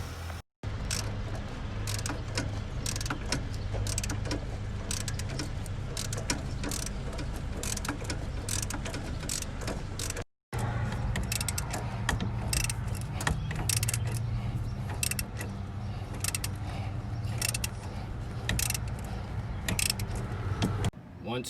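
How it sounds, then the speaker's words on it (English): Ratchet backing out 15 mm bolts on a 2008 Chevrolet Tahoe during a CV axle replacement: steady, close clicking of the pawl that runs almost continuously, broken by two brief pauses, with someone talking over it. "I'm going to take these bolts out."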